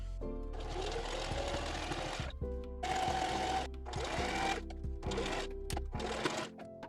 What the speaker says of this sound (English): I'm just gonna be doing a zigzag stitch all the way around the square.